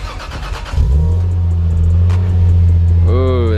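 Lexus IS300 fitted with a new HKS exhaust cranks briefly, catches and settles into a loud, close, deep steady idle, a short rev rising near the end.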